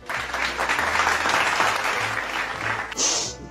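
Audience applause during a Nepal Idol audition, steady dense clapping that fills the whole stretch and swells slightly toward the end, with faint voices underneath.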